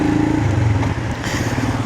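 A Voge 300 Rally motorcycle being ridden on a test ride, its single engine giving a loud, close, steady throbbing drone with a slight shift in pitch partway through.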